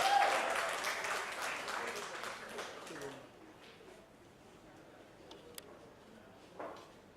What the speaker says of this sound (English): Ladies and gentlemen, please a round of applause for Richa Chadha.